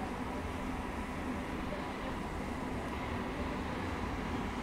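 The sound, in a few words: 12713 Satavahana SF Express train departing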